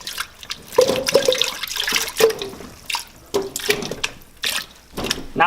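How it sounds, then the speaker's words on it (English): Water splashes and pours into a pot in uneven bursts, with soft thuds and clunks of potatoes dropping in. "I'm going to put the potatoes in the pot first"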